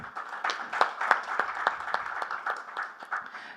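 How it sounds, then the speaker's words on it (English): A conference audience at a fintech event claps for the panel speakers in a busy, steady round of applause from a moderately sized crowd, heard from a middle distance. "let's give all of them a warm round of applause"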